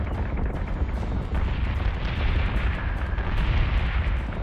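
Heavy ship guns fire in a Battlestar Galactica Deadlock space battle, a dense, loud barrage of booming blasts that rumble continuously without a break.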